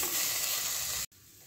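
Chopped ivy gourd and sesame frying in a pan over medium heat give a steady, loud hiss and sizzle that cuts off abruptly near the end, leaving only faint background noise.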